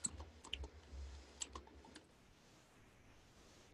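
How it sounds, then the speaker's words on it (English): Typing on a computer keyboard, a quiet close run of scattered key clicks in the first two seconds, then near silence before one last sharp tap. "I'll type it in for you"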